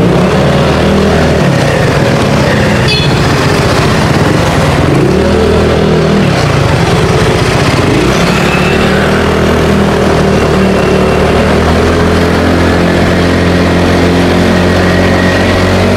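A loud, steady motorcycle engine drones close by for the whole stretch, its pitch rising and falling briefly as if revving before settling.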